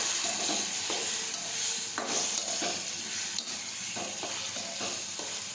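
Chopped ripe bananas sautéing in hot oil with mustard seeds and cumin: a bright, dense sizzle with scraping, clattering stirs of a spoon in the pan, near and loud throughout.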